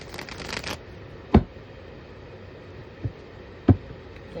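Tarot cards are shuffled by hand in a quiet room: a brisk riffling flutter at the start, then a few sharp, separate taps and slaps as the deck is squared and cut.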